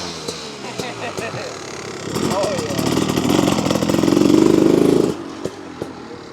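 A new 2026 Beta 350 RX two-stroke dirt bike revs up from a sputtering idle into a rising, buzzy climb that holds for a few seconds and then cuts off sharply, close by.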